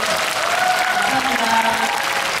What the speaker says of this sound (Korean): 저희 큰 박수 치면서 이 자리를 마감하도록 하겠습니다.